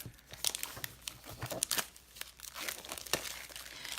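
Craft packaging is handled up close, giving crisp, irregular crinkling and tearing rustles in quick bursts, with no talk over them.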